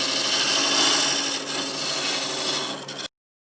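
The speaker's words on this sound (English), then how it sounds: "Blend this with a negative rake scraper here." Negative rake scraper cutting end grain on a spinning wood lathe, a close, steady raspy scraping hiss that wavers slightly before stopping abruptly, with no one talking.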